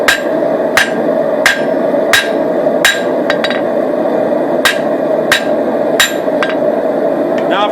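Hammer forging a blade on an anvil, sharp metallic strikes landing about every two-thirds of a second in an even rhythm, loud and close, with a brief quicker pair of taps midway.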